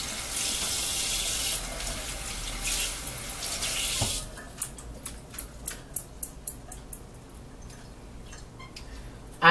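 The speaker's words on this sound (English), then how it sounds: "So I'm going to wash these off while they're actually in the bundle." Cold tap water runs in a steady hiss over a bundle of asparagus held under it for several seconds, then stops, followed by a few quick drips and light knocks.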